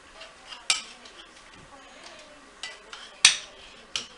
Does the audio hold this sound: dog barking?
no